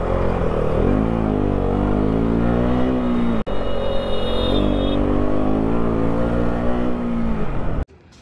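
A car engine hums steadily at close range while driving out through traffic, its pitch gliding up and down with throttle, broken by a brief dropout midway and cutting off sharply near the end.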